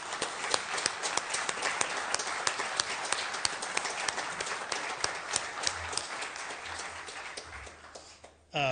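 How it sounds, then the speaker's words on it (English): A round of applause at a city council meeting, dense overlapping clapping from a room of people, steady for several seconds before trailing off and stopping abruptly. "Just would ask for one more round of applause for Councilman Sherlin and what he's given"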